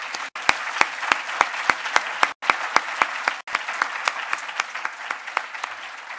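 An audience applauding steadily, the claps landing in a brisk, even rhythm that fills the whole stretch.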